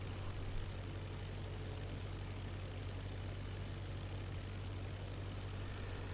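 Aircraft engine in the IL-2 Flying Circus flight game, throttled to 1000 RPM, giving a steady, continuous low drone with a strong hum and broadband noise that holds even throughout, with no speech.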